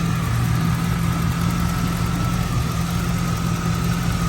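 A 1988 Pontiac Firebird Formula with a Tune Port 350 V8 and cold air intake idles steadily, a loud, even engine drone with a low rumble throughout and no voices.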